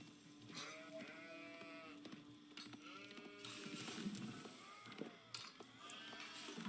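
Several sheep bleat in the real-time strategy game Age of Empires 4, with overlapping wavering calls in quick succession over quiet game ambience.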